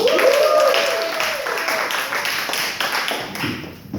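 A stand-up comedy showcase crowd claps and cheers as the next comedian is brought on stage, loud dense applause with a whoop at the start, gradually thinning out.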